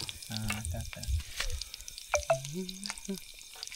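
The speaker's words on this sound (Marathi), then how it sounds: "तेल पलपललेलं आहे" Chicken fries in hot bubbling oil at a nighttime outdoor farm party, with a steady near sizzle and crackle under occasional voices talking.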